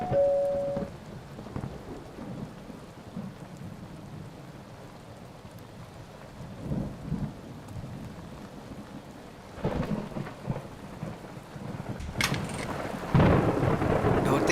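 Heavy rain falls steadily outside with rumbles of thunder, the storm building to louder cracks and surges near the end, with no talking.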